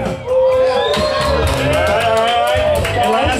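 A bike festival crowd cheers, whoops and shouts loudly and continuously, with voices rising and falling in a dense roar.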